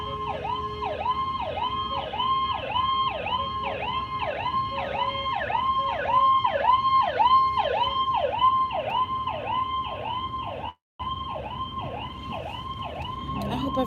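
A wailing ambulance siren cycles rapidly up and down, loud and close, with a brief cutout near the end before resuming.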